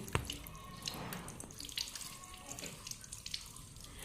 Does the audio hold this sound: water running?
yes